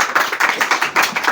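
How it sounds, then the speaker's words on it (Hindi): Audience clapping at a school talk for board exam students, a quick run of rhythmic, fairly even claps close by, rising and falling in pulses with no voices. "जोरदार तालियां, जोरदार तालियां।"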